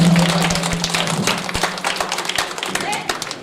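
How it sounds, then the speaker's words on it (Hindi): Hands clap loudly and quickly at a school day event, a dense patter of applause from a gathering that tapers slightly. A speaker's voice carries over the clapping. "जोरदार तालियों के साथ"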